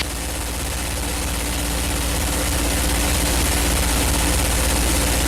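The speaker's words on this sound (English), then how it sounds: "I think we've got a dirty plug on the right side. If you hear that shaking, don't worry about it." A P-51 Mustang aircraft engine running rough with a dirty spark plug, heard from the cockpit in flight as a loud, steady, dense roar with a low throbbing hum throughout.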